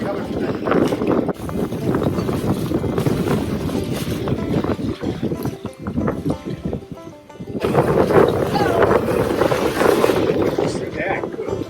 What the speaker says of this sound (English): that wind jerked it, didn't it?